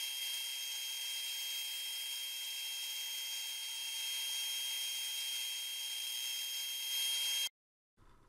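An Accu-Slice system slices a thin maple veneer board with a steady, high whining machine drone that holds evenly for about seven seconds, then cuts off abruptly into near silence.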